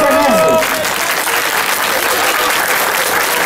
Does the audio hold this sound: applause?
yes